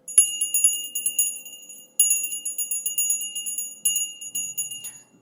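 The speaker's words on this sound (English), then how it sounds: "The bell didn't really want to ring today." A small handheld bell is rung to clear the energy of a space, giving bright, ringing metallic strikes in quick repeated bursts with short pauses between them. The bell sounds close and plays alone, with nothing else heard.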